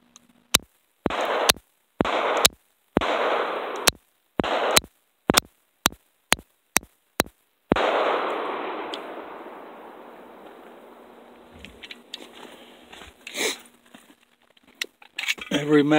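A Llama Mini Max .45 pistol fires about a dozen sharp, loud shots at a quick, slightly uneven pace, each with a short ringing tail. Fainter handling clicks and rustles follow once the firing stops.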